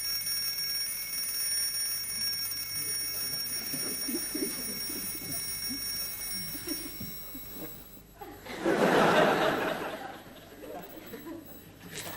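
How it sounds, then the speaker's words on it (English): An electronic alarm rings in a loud burst lasting a couple of seconds, following a stretch of quieter background voices and steady hum. "I wake up as soon as the alarm goes off."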